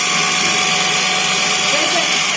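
A mixer grinder whirs loudly as it blends water with herbal powders, a steady high motor whine that stays constant throughout, close and dominant.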